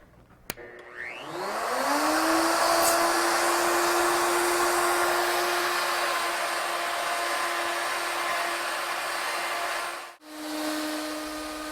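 Router spinning up and cutting a spiral rope twist along a wooden pen blank on a lead-screw jig: a rising whine that settles into a loud, steady high-pitched roar for about nine seconds, then briefly dips and resumes, close and alone.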